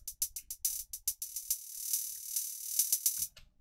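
Crisp, rapid hi-hat ticks in a Minecraft record remix form a busy, skittering pattern of bright metallic hits, with a low thump near the end and no voices.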